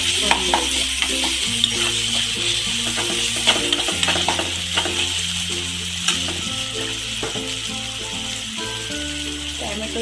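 Tomatoes mashed fine and fried with a little salt for matki usal, a Marathi sprouted moth bean curry: steady close sizzling and stirring scrapes in the pan, with sparse background music.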